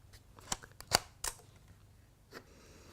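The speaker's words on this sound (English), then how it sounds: "when you open up the screen, you obviously get a greetings noise and the shutter opens" A Sony FDR-AX33 Handycam camcorder powers up as its screen opens, giving a few faint short clicks and ticks followed by one softer click as the lens shutter opens, heard close in a quiet room.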